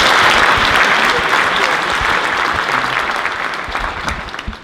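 A congregation at a Yom Ha'atzmaut event at Congregation Beth El gives the event committee a round of applause, full and steady clapping from many people that tapers slightly near the end.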